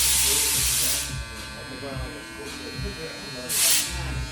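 Wahl Vapor cordless hair clipper switched on, a steady close electric buzz with hissy bursts at the start and near the end.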